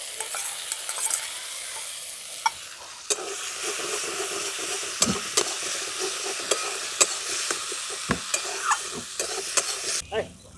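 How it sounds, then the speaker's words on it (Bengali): Spice paste with ginger and garlic fries in a pan, a continuous loud sizzle broken by sharp scraping stirs and clinks, while a katla fish curry is being cooked. "এরপর আমি যে মশলাটা পেস্টটা বানিয়ে রেখেছিলাম দিয়ে দিচ্ছি মশলার পেস্টটা"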